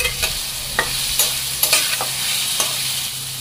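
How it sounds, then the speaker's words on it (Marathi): Green peas fry in oil with spiced masala for a samosa filling. A continuous close sizzle runs under irregular scraping stirs and light utensil clinks. "यामध्ये आपण वाटाणे परतून घेऊयात"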